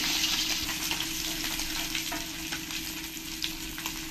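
Tilapia fish frying in hot oil gives a steady, dense sizzle that runs unbroken throughout, close and fairly loud, with faint crackles and occasional stirring sounds.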